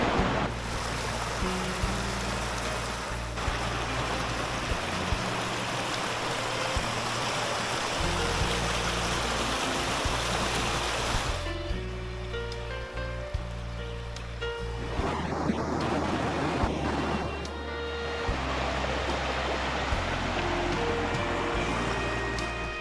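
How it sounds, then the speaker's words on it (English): Steady, rushing water roars continuously, loud and broadband, with a brief shift in tone midway, from a waterfall close by in the Porcupine Mountains, Michigan. "Some nice falls here."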